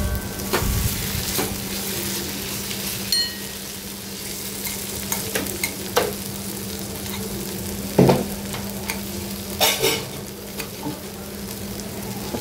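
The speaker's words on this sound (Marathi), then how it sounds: "आता हे सगळं मिक्स झाल्याच्यानंतर झाकण ठेवून आपण भाजी शिजवून घेऊया।" Chopped ivy gourd (tondli) cooks in a covered pan with a steady low sizzle and occasional clinks and scrapes, heard alone without talking.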